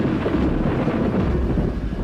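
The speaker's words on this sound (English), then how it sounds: "A storm." Gusty wind roars steadily through an Australian outback storm with dry grassland, a heavy low rumble running underneath throughout, with no rain and nobody talking.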